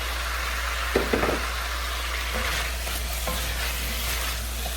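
Peeled, washed pumpkin pieces dropped into a hot pot, with a couple of quick knocks as they land, then a continuous even sizzle and faint stirring.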